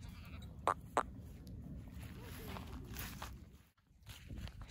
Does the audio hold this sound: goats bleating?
yes